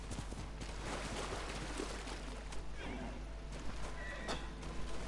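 A horse whinnies amid clip-clopping hooves and splashing water in the video game Ghost of Tsushima, with a voice talking over the steady background.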